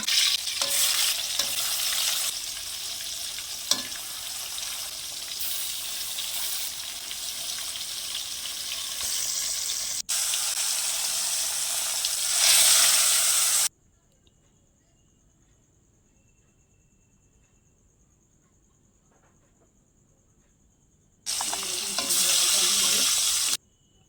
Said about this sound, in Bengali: এই কড়াই তেল দিয়ে দিলাম, মাছগুলোকে আমি ভেজে নেব।